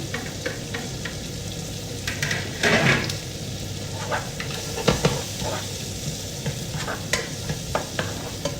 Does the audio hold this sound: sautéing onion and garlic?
yes